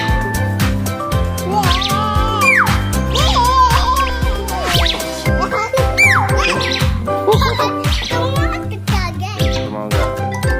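A talking pet bird that can laugh and give greetings squawks and chirps repeatedly over steady music, its sharp, varied calls close and prominent while someone speaks nearby.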